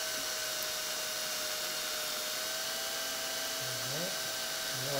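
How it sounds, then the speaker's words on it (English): Drill boring down through a wooden spindle of a broken chair, a steady high whine held at constant speed, close and continuous, with a brief lower grinding change near the end. "So again, we'll take our drill."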